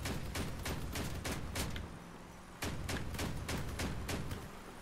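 A vehicle-mounted machine gun in the combat game Crossout fires rapid bursts of gunfire, loud and dense, pausing briefly in the middle before another burst, with no talking.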